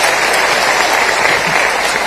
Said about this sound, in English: Let me propose a round of applause for all those who gave wonderful suggestions.